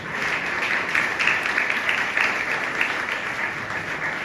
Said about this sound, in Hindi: आज जोरदार तालियां उसके जलाल के लिए बजाएं।